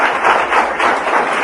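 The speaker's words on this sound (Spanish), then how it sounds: "¿Por qué no le damos un aplauso fuerte al Señor?" A church congregation applauding at a Spanish-language worship service, steady dense clapping from many hands throughout, loud and close with no pauses.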